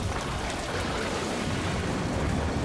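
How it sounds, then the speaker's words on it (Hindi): Heavy rain pouring down in a constant, loud broadband hiss with a low rumbling undertone, unbroken and steady throughout. "ये बारिश कहाँ से आ गई?"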